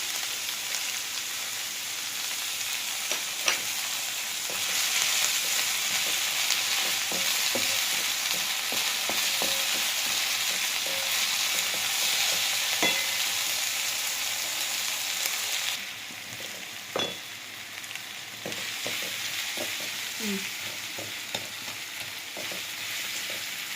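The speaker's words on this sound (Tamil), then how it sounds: "வெஜிடபிள்ஸ் ஓரளவு வதங்கிருச்சு." Vegetables sizzling steadily in a hot pan for vegetable kichdi, a bright continuous fry with occasional spoon stirs and taps against the pan, close and alone.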